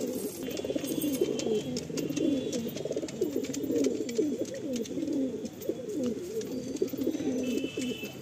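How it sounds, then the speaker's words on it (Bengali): Several pigeons offered for sale coo continuously in soft, overlapping, rolling calls at moderate distance, with no talking over them. "খুব সুন্দর সুন্দর পায়রা আজকে সেলে রইলো বন্ধুরা"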